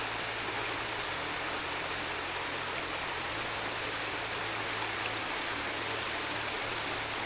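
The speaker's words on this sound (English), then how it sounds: "Everywhere you go there's some lovely running water." Running stream water along a wooded trail, a steady, even rushing hiss that holds unchanged throughout, fairly close with no voices.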